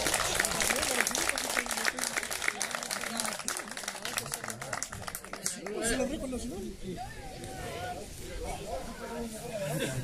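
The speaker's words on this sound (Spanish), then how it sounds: "Aplausos para el récord nacional." Applause for a national air rifle record at a shooting competition, with a dense wash of clapping through the opening seconds that thins as voices and crowd chatter take over.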